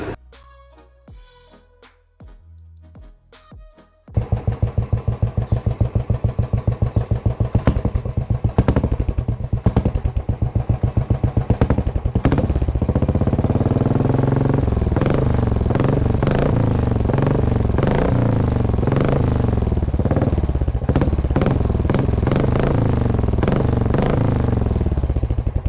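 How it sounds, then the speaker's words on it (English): A motorcycle fitted with a Red Rooster Performance exhaust starts with a few sputters, then settles into a loud, close, rapid-firing rumble and revs repeatedly in sharp surges, with no talking. "You would have heard the sound of this beast, the Red Rooster Performance."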